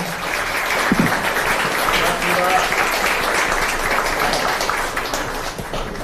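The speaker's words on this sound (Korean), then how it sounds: "큰 박수 한번 부탁드리겠습니다" A crowd at a political party youth event in Busan gives sustained, loud applause that fills the whole stretch evenly, with faint voices mixed in.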